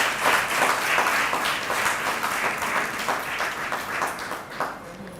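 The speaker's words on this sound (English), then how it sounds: "A big round of applause for all the women who are here." Audience applause at the inauguration of the Dhaatri Mobile Mothers Milk Bank in Hyderabad, Telangana, as a crowd claps steadily and loudly for the women present, sustained dense clapping without a break.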